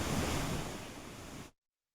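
High water rushing through the Gurusanagi barrage on the Bhima river in Vadagera taluk, Yadgir, swollen after heavy rain; a loud, steady broadband roar of flowing water that fades slightly, then cuts off abruptly.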